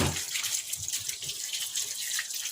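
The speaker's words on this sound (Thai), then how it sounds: "เขาเอาน้ำมาล้างให้สะอาดค่ะ ล้างน้ำให้สะอาดเลยจ้า" Limes rinsed clean under steady running tap water, a continuous close splashing flow with no voices.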